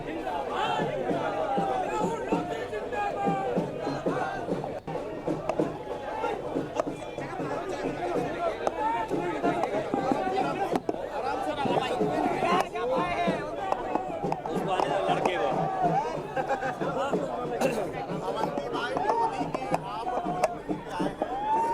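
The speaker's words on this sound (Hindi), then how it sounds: "सिक्योरिटी और लोगों की भीड़ भी यहाँ पर नजर आ रही है।" A dense crowd chatters steadily at a garlanding ceremony for Rani Avantibai's statue, with security on hand. The overlapping voices form a continuous, fairly loud murmur throughout.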